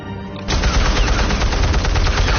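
Loud, sustained automatic gunfire in a Batman video game, a dense rattling burst that kicks in abruptly after a short quiet moment and continues without a break.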